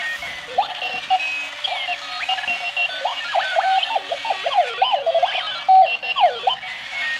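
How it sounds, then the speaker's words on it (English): An alarm clock beeps and chirps in quick, warbling electronic bursts that rise and fall in pitch, sounding close and steady with no voices over it. "the clock will begin to beep"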